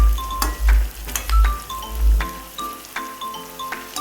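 Spice paste drops into vegetables frying in a pan for veg pulav, bringing bursts of sizzling, clinking and stirring that swell and fade in quick repeated pulses.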